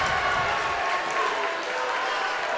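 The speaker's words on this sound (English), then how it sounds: "the crowd's getting a little into it here as momentum might be shifting a little bit towards Albert Gallatin" High school basketball crowd in a gym cheering and applauding at an Albert Gallatin versus Laurel Highlands game, a steady wash of clapping and crowd noise at moderate level, with faint talk underneath.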